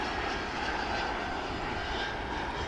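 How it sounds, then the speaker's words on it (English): Spirit aircraft jet engines on the takeoff roll at DFW Airport, a loud continuous roar heard from a distance without any talking. "a Spirit aircraft taking off from that same position started rolling and then stopped and then returned to the takeoff line."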